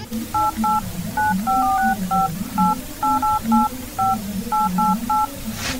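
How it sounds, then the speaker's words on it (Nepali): Telephone keypad tones dial a number to call a shop, with about fifteen short clean beeps in an uneven rhythm of pairs and singles, loud and close over a low steady hum, with no talk. "एकछिन पखै त छोरा, म पसलमा फोन गर्छु है।"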